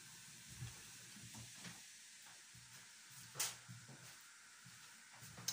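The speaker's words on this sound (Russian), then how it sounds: "Чайничек закипел почти что." A faint, steady hiss of water heating in a kettle, with soft bubbling and a few light clinks nearby.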